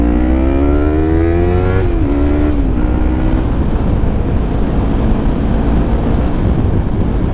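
A Yamaha R3 motorcycle engine revs high on a first ride after a low-side crash, its pitch climbing and dropping through gear changes under heavy wind rush at the microphone.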